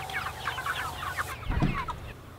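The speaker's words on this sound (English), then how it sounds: "we move these chickens every single day in a chicken tractor" Freedom Ranger and Cornish Cross meat chickens clucking in a chicken tractor on pasture, a steady stream of soft clucks and chatter at close range, with no talk.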